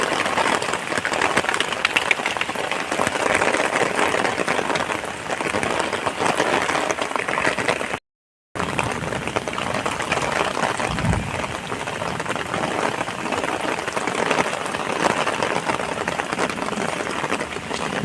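Steady rain pouring outdoors where sheep are kept, a dense even hiss of drops on surfaces that continues throughout with one brief dropout, close and fairly loud, no voices.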